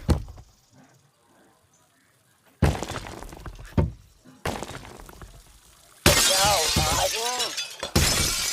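Hotel room being smashed up in the video game Hotel R&R: sharp bursts of shattering glass and breaking objects, crashes and thunks in quick succession after a quiet start, loud and close, with a chirpy whistling sound partway through.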